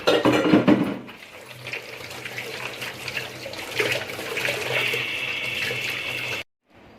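Water runs steadily from a kitchen tap as hands are washed at the sink, a close continuous splashing stream with a brief louder clatter at the start, cutting off abruptly near the end.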